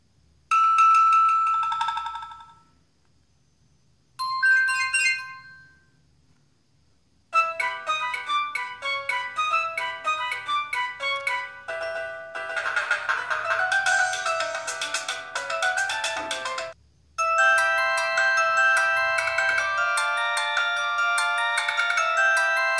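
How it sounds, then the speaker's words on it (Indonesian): Several built-in ringtones of an Alcatel One Touch 818D feature phone play one after another: short melodic tone sequences with pauses between them, then longer bright polyphonic tunes, loud and clear with no talking. "Buat nada ringnya di sini kita putar dari nada yang pertama."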